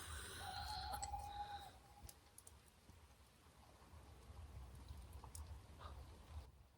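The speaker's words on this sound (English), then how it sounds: "Just starting to film and the owls have gone mad again." Faint owl hoots and calls early on over steady patter of rain in woodland, quiet and distant, with the rain continuing alone afterward.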